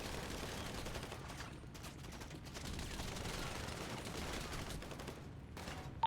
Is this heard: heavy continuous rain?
no